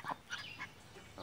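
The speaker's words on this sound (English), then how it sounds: "Here comes our ducks." Ducks, including mallards, quacking and honking faintly outdoors, a few scattered calls at low volume.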